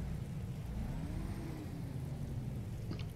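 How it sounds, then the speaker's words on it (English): A truck engine in American Truck Simulator, heard from outside the vehicle as a steady, loud low rumble that holds throughout and then cuts off abruptly at the end. "Nice engine sound."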